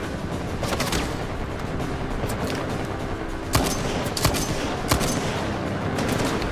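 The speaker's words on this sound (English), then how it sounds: "Okay, somebody's still shooting at us!" Gunfire in the video game Uncharted 4 during a ship graveyard battle: dense, continuous volleys of automatic fire with several sharper, louder shots standing out, loud and close throughout, no talking.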